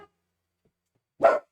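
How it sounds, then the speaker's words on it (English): A single short dog bark rings out near the end after near silence, loud and close, with a faint trace of sound at the very start. "I've got dogs barking"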